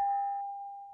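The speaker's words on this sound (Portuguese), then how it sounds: "vamos soar o sino" A single clear bell tone rings out once at a Rotary Club meeting and lingers, fading slowly with no other sound around it.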